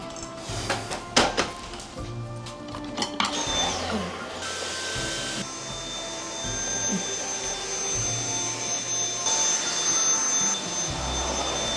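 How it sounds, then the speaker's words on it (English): A vacuum cleaner drones steadily throughout, its motor pitch shifting slightly as it moves, with a few knocks and bumps early on. "Since I was already going to vacuum, took advantage and got rid of all of the dog hair"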